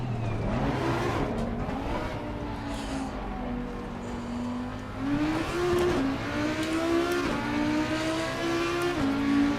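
GT4 race car in Assetto Corsa Competizione, its engine droning steadily then climbing through revs with shifts and repeated pulls, loud and close throughout, no voices.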